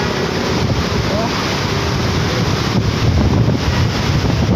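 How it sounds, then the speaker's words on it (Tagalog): Strong storm wind roars steadily against the microphone, a constant loud rumble with no pauses throughout. "Lakas ng hangin"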